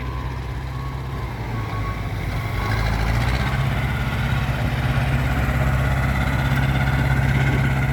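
A six-wheel dump truck's diesel engine rumbles nearby, idling low and then swelling louder about halfway through before settling into a steady, heavier run.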